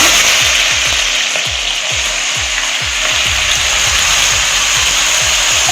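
Spring onion sautés in plenty of hot oil with fennel seeds for a prawn gravy. There is a loud, steady sizzle, broken by repeated scraping stirs of the pan, and no one speaks.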